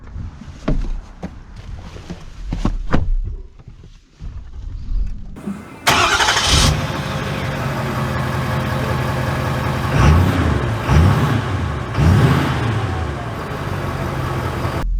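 A 2024 Ford Super Duty Lariat diesel pickup cranks and fires up, catching with a loud burst before settling into a steady, close idle; softer clicks and shuffling come before the start.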